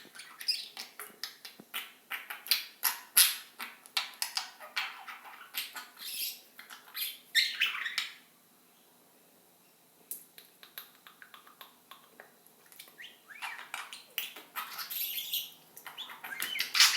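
Budgies chirp and twitter at a mirror early in the morning, a busy run of sharp, close tweets and scratchy calls with a brief lull midway before the chatter resumes.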